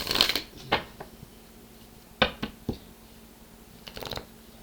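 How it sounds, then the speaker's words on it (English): Tarot cards are riffled and shuffled in several short bursts with quiet gaps between, close and crisp. "I only have a few more shuffles here left to go. I am shuffling the tarot."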